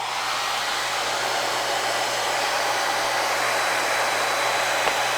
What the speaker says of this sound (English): I'm going to put the hairdryer on this end, blow that air